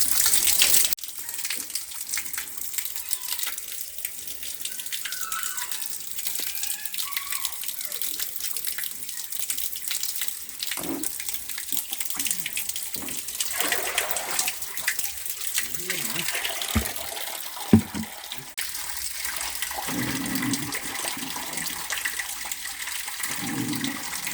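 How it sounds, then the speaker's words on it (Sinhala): Water gushes continuously into a fish tank, a steady rushing pour that shifts slightly in tone, with faint indistinct talk in the background. "වතුර පුරවලා දාමු ටැංක් එක වතුර ගෙන්න ගමන් තියෙන්නේ"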